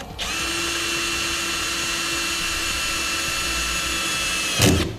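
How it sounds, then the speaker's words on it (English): A power drill runs steadily with a 1/8-inch bit, boring a pilot hole into a fifth wheel installation rail in the bed of a Ram pickup truck. It whines loud and close for about four and a half seconds, then stops abruptly with a short clunk. "Now we need to go ahead and drill out our pilot hole for the second row."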